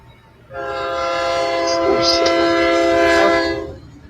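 A train rolling by with its horn blaring in a long, loud, sustained blast lasting several seconds, swelling in and fading at the end, with rumbling rail noise beneath.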